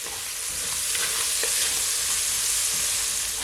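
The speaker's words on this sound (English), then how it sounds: "And I'm also gonna add my tomato. My garlic. Just gonna allow it to saute for at least 15 seconds." Tomato and garlic sauté in a pot for a one-pot chicken and rice, giving a continuous, loud sizzle of hot oil with faint stirring scrapes and no voices.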